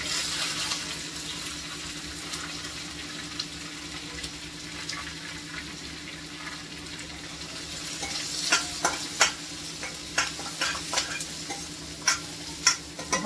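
Chopped onions frying in a pan for a Marathi-style mixed dal tadka with dried Kashmiri red chilli, a steady low sizzle with stirring and sharp utensil clicks and scrapes growing busier toward the end, no voices.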